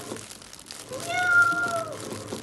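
A person playing one of the witches in Macbeth gives a single drawn-out, rising-then-falling meow imitating a cat, fairly quiet over a slightly noisy room.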